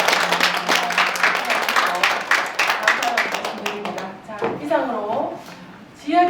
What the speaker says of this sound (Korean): 우리 정현수 대표님을 비롯해서 실무진들께 정말 감사합니다라는 박수를 드리고 싶어요.